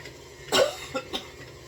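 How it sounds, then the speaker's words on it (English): A single sharp cough up close, followed by two softer throat sounds, in an otherwise quiet room. "Sorry, I just coughed on camera."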